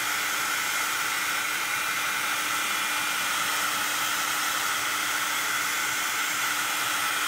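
A heat tool blows hot air over embossing powder on watercolor paper, giving a steady, even, fan-like hiss of moderate volume with no talk.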